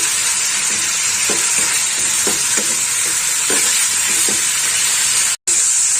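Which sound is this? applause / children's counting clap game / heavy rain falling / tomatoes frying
tomatoes frying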